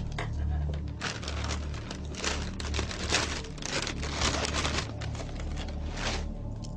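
Cereal flakes being taken out of their package, a close, dense run of dry crinkling and rustling that stays fairly quiet and continuous throughout.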